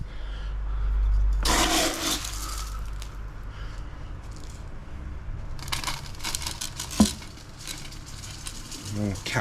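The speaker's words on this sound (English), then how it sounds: "I'm going to start capping the soil with a nice fine gravel" Fine gravel is poured over soil in an aquarium, making close, gritty rustling and crunching in scattered bursts, with a low background rumble.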